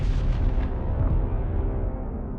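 A rocket-like roar from an ASAT missile launch, dense, heavy and rumbling throughout, steady and loud before easing slightly toward the end.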